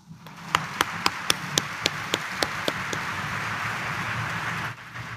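A church congregation claps during a priest's homily, about ten sharp, evenly spaced claps in a brisk rhythm that then stop, leaving a low room murmur.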